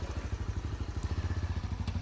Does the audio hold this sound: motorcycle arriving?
yes